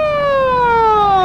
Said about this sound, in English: Just then, a police car drove up to the corner.